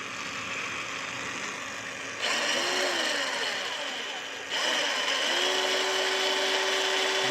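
Small 6-volt electric motor from a kids' ride-on car starting abruptly for a speed test, a steady high whine that steps up in intensity twice, with a rising tone at each start.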